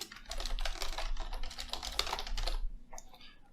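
Fast, close key presses on a computer keyboard while a document description is typed, a dense run of clicks that stops near the end.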